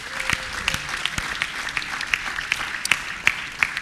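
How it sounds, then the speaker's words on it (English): Audience applause at a live automation festival in Lagos, Nigeria, a light scatter of claps with a few sharp, distinct hand claps standing out at an even pace, moderately near and alone without talk. "Can we clap for them again?"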